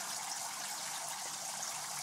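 Water rushes steadily out of a 2- to 3-inch bell siphon in a homemade aquaponics setup, a continuous hissing flow at low level with no voices.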